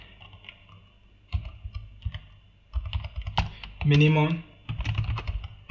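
Java code being typed on a computer keyboard, steady clicking keystrokes at close range in uneven runs, with someone talking over part of it.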